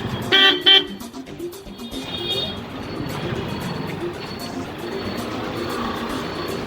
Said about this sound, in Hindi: और हम यहाँ ट्रैफिक में फंस रहे हैं।